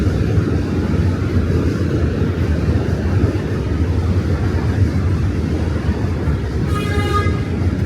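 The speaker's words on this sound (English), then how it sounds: "that's the train beeping the horn" A New York subway train rumbles loudly across a bridge, a steady heavy roar of wheels and cars, with a short tonal horn blast near the end.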